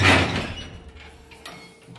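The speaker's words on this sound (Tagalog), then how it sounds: "Bubuksan na ang pinto." A resort room's sliding door opens with a short rolling rush at the start, then fades to quiet room tone with a couple of faint knocks.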